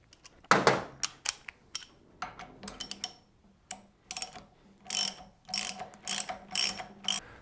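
A ratchet tightens a new lock nut on a Honda XR250R dirt bike shock during a rebuild: close, crisp bursts of clicking pawl strokes in irregular runs with short pauses between, no talk.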